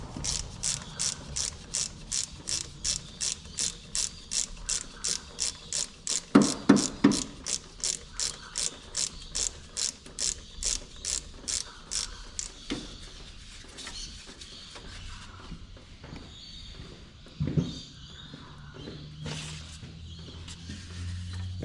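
Ratchet with a 22mm socket undoing a very tight banjo fitting on a Toyota Land Cruiser HZJ75 power steering pump, a loud, steady stream of rapid clicks for several seconds, then quieter fumbling and clanks.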